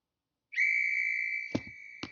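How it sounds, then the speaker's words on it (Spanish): A single shrill whistle blast sustains for about a second and a half, with a couple of short knocks near the end. "escuchaba un silbato"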